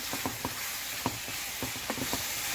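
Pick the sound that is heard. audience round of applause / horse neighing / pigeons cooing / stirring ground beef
stirring ground beef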